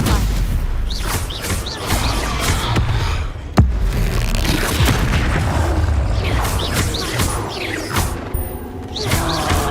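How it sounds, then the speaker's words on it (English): A Stupefy spell cast during a troll fight in the Hogwarts Legacy video game, a dense rumble of booms and crashes with one sharp impact near the middle, under a busy game soundtrack. "Stupefy!"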